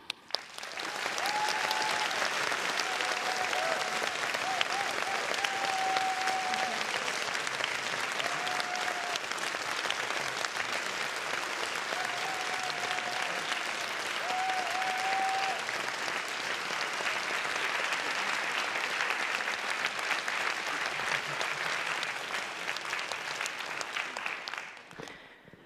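A large audience applauds at a Nobel Prize in Physics lecture, welcoming laureate Anne L'Huillier: dense, sustained clapping that holds steady for about twenty-five seconds before tapering off, with no talking over it.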